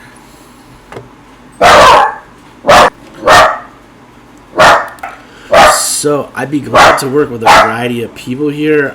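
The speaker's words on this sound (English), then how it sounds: "I'm sorry my dog is a little bit noisy right now." A dog barks loudly and repeatedly nearby, sharp separate barks, then a person speaks over the end.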